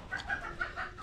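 A chicken clucks in a quick run of short, soft notes at close range, fairly faint, with no talking over it.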